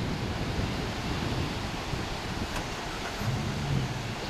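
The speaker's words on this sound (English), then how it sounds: "you can see it's just a pristine California beach" Surf washing onto a pristine California beach on a warm, busy day, a steady broadband wash of waves mixed with wind buffeting the microphone, continuous and fairly close with no voices.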